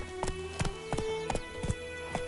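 Roach the horse in the video game Witcher 3 gallops with a brisk run of hoof clip-clops, close and rhythmic, over a faint steady musical background.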